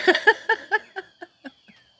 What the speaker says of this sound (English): those are crows